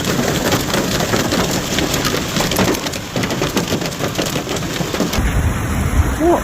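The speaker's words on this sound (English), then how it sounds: "A severe storm accompanied by hail and heavy rain resulting in flash flooding has hit a number of locations in Victoria" Severe storm in Castlemaine, Victoria, with heavy hail and rain: a loud, dense, unbroken roar of pelting hail and pouring rain on surfaces, steady throughout with no clear talking.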